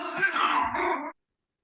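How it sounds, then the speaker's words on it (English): A dog lets out a short, close growling bark of about a second, rough and throaty, that breaks off abruptly into silence. "Whose dog is that?"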